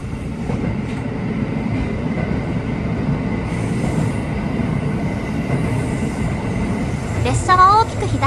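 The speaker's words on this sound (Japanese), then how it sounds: "列車は大きく左へ曲がりながら尼崎へと到着します" A JR West 321 series commuter train rumbles steadily along the rails, and near the end its wheels squeal sharply as it curves left and slows into Amagasaki station.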